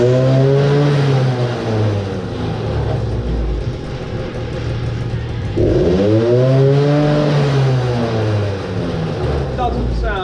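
A derestricted Suzuki LT 50 two-stroke quad running on premix revs up and down in repeated swells, buzzing loud and close, with a voice talking over the engine.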